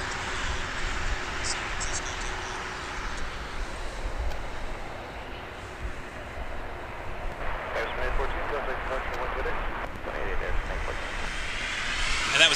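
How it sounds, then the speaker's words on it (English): An Embraer Praetor 500 business jet takes off at Toronto Pearson Airport, a steady, broad roar at some distance that swells slightly toward the end. "that was Air Sprint 814 to Oakland on an Embraer Praetor 500."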